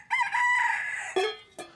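Chickens in a well-kept henhouse, a rooster's drawn-out crow followed by two short clucks, close and clear with no talking.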